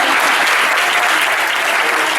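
Continuous applause fills a hall as people at a book presentation in Mexico clap together, a thick, even roar of hands close to the listener, unbroken and without any voices.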